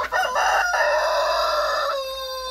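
A crested rooster on a backyard farm crows one long, clear cock-a-doodle-doo at close range, ringing out alone with steady harmonics before trailing off.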